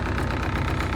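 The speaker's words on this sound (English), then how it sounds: "The B20 is idling perfectly where it should be." A Honda Civic with a swapped-in B20B engine idles slightly high, a steady, close, continuous engine rumble with no talk over it.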